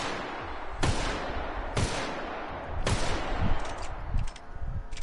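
Gunshots from a firefight in The Outer Worlds video game: three sharp, loud single shots about a second apart, followed by rumbling combat noise and a few quicker, fainter crackling shots near the end.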